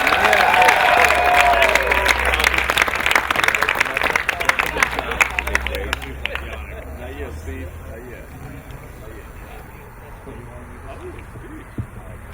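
Wedding guests applaud the bride and groom at a Sonoma celebration with loud, sustained clapping and cheering from a crowd, which thins into scattered claps and murmuring voices over the final seconds.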